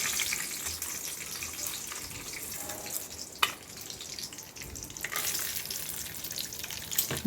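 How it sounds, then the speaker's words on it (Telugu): Peanuts, chana dal, urad dal, dried red chillies and green chillies frying in oil, a continuous crackling sizzle with occasional stirring scrapes and a sharp clack midway. "బాగా దూరగా వేయించాలి, మరీ మాడిపోయినట్టు ఉండకుండా దూరగా వేయించుకోవాలి"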